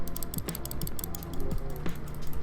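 Rapid clicking from a computer mouse during a game trading session, dense and close, with a few heavier clicks standing out over a steady hum.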